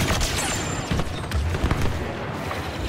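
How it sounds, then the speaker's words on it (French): Busy Star Wars Battlefront II battle with a deep grenade blast thudding low amid continuous blaster fire and rattling shots, loud and dense throughout. "Grenade lancée."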